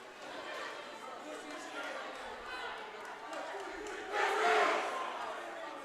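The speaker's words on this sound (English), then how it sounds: "We have another attempt at a cheer here" Crowd at a girls' high school volleyball match trying a '1-2-3 Grizzlies' cheer, voices and chatter building to a louder ragged shout near the end, heard from within the gym.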